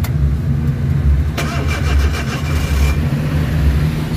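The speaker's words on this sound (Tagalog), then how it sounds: "So check natin, start yung makina." A Suzuki DA64W turbo engine with an erratic high-RPM idle fault cranks and catches, then settles into a low, steady idle with a rumbling drone, close by and fairly loud.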